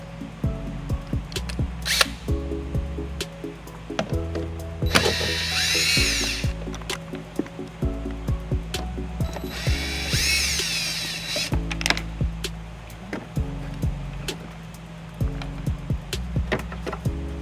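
A power tool backs out Phillips screw fasteners holding a light on a 2012 Ford Escape, giving short, repeated motor whirs and buzzing bursts separated by clicks and handling knocks, close up with no speech.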